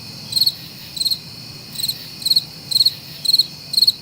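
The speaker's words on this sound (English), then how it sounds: "It was just crickets on that one." Crickets chirp in quick trilled bursts, about seven evenly spaced pulses that repeat at a steady rhythm, clear and moderately loud against a quiet background with no voices.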